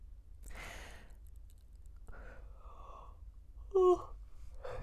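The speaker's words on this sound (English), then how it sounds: "Sorry, I just yawned." A person yawns with a long, breathy exhale, close and fairly quiet, followed by a few soft vocal sounds.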